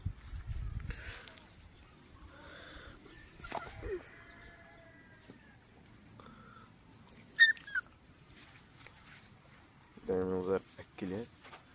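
Puppies playing with their owner, with intermittent soft whimpers, yips and squeaky whines set against quiet stretches, plus a few scuffling bumps and a brief burst of noise near the end.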